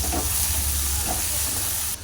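Spices roasting in hot ghee for Punjabi-style ghee chicken give a steady, loud sizzle and hiss, continuous throughout and cutting off abruptly at the end.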